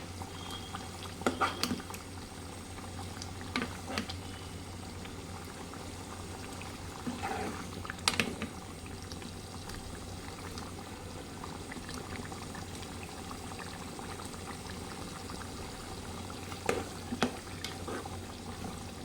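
A thin, watery chicken curry gravy simmers quietly on the stove, giving a faint, continuous bubbling with occasional louder pops and light clinks scattered through an otherwise steady low murmur.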